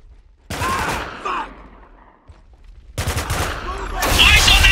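Mounted turret gunfire in the shooter game Spec Ops: The Line, loud sustained bursts of rapid automatic fire with a short pause in the middle, booming close, with shouted voices mixed in.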